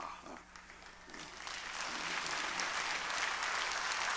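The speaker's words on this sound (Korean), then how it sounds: "박수 치는 건 여자가 아니고 남자가 합니다." Congregation clapping during a Korean church sermon, swelling from scattered claps into broad, steady applause that stays fairly faint and distant.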